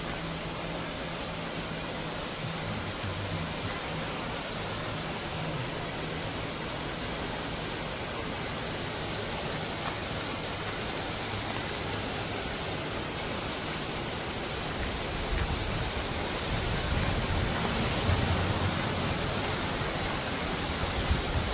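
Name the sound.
Horsetail Falls waterfall, Columbia River Gorge, Oregon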